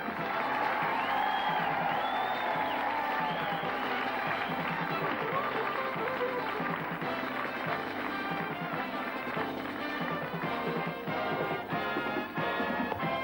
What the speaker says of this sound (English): Your welcoming applause is wonderful